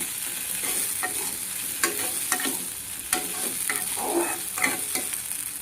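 Soaked sago upma stirred in a hot pan: a steady close sizzle with repeated scraping strokes of the spoon, rhythmic and unbroken.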